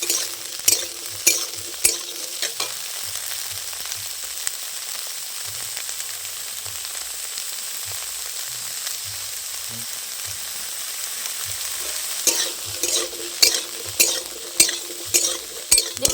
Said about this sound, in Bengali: ফুলকপিটাও খুব ভালো করে আমি ভেজে নেব দেখুন